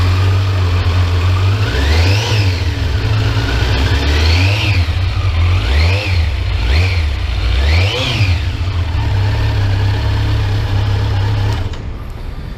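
A 2020 Kawasaki Z900 motorcycle engine revving hard and repeatedly, several loud close rising-and-falling throttle blips over a steady idle, then settling back to idle near the end.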